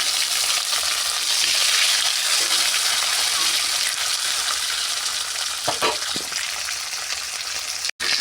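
Chopped tomatoes fry loudly in oil tempered with bay leaf, whole dried red chillies and cumin, a constant close sizzle with a few spoon scrapes and knocks toward the end.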